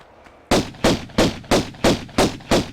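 Seven sharp pistol shots from Tomb Raider (1996), fired at a steady rhythm after a brief quiet lead-in. Each crack rings out loud and close and decays quickly.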